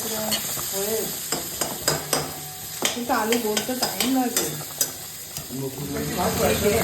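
Large pieces of fish fry in a pan with a steady sizzle, broken by clattering stirs and scrapes of a utensil, while someone talks over the cooking.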